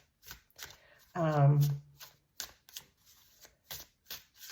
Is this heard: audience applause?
no